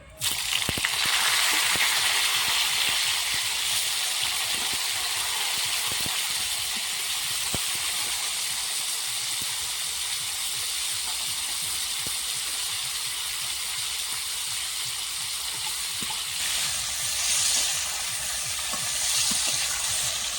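Cauliflower pieces fry in hot oil in a pan with salt and a little turmeric, giving a continuous even sizzle and hiss, with small crackles and stirring clicks and no talking.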